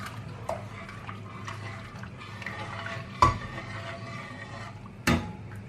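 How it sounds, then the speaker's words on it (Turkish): A spoon stirs Anatolian provisions soup in a pot with soft, quiet swishing, broken by two sharp clinks against the pot's side. "Şimdi çorbama yavaş yavaş ilave ediyorum arkadaşlar karıştırarak"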